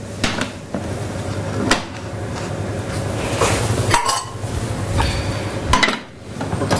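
A frying pan is shaken to spread pancake batter for wild mushroom pancakes, giving a series of close, loud metallic scrapes and clatters with sharp knocks scattered throughout, alone without talk.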